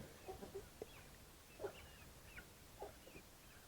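Chickens on a farm at Lincoln Boyhood National Park cluck in short, scattered bursts at moderate distance as they are herded into a coop at evening, with no talk over them.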